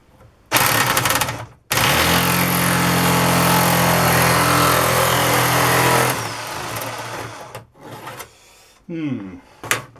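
Drillpro electric nibbler chewing through sheet metal, a loud, continuous rasping buzz with a steady motor drone that runs for several seconds, stops, then returns in short bursts with small handling clatter between.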